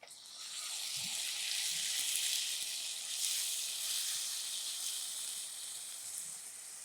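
Chopped tomatoes go into a pan of frying onions and peas, setting off a steady, close sizzle and hiss with occasional soft pops, and no voices.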